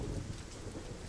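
Heavy rain falls with rumbling thunder in a dense, continuous wash, deep low rolls beneath the steady hiss of the downpour, fairly quiet and without talk.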